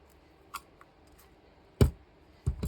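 Paper for a DIY fridge notebook is cut with a crafting tool, giving a few quiet, sharp snips spaced apart, the last two louder, over near silence.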